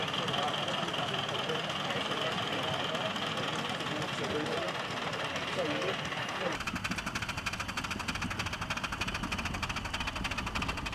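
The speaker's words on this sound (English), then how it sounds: "The exhaust sounds really impressive, but the loco is struggling to get up to speed." Steady, loud mechanical chugging from the exhaust of a miniature steam locomotive struggling to gain speed, turning into a faster, rapid chuffing beat partway through.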